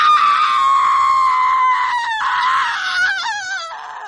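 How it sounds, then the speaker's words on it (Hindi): A long, agonised scream rises and wavers loud and close before breaking into a shaky, gasping cry over about four seconds, alone with no talk, fitting a final dying shriek in a Hindi horror tale about a shape-shifting spirit. "और फिर एक आखिरी दर्द भरी चीख पूरे आसमान को हिला दी।"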